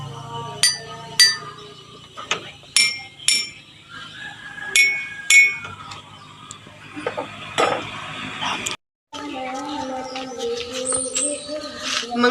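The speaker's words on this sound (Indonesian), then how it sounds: "Lalu kita gunakan sendok untuk memukul gelas." A spoon taps glasses of water one after another, producing bright ringing clinks at different pitches, with some pauses and a sustained tone toward the end.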